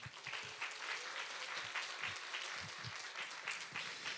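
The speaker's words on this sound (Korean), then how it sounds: "우리 중1 친구들을 축복한다고 환영한다고 우리 박수 한번" A church youth-service congregation claps to welcome the first-year middle school students seated in the choir loft, a fairly quiet, even spread of many hands with a few closer claps standing out.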